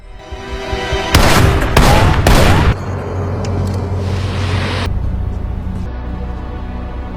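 In a film scene a man shoots his friend with the friend's own gun: several loud, close gunshot bursts ring out in quick succession, then a fading reverberant tail.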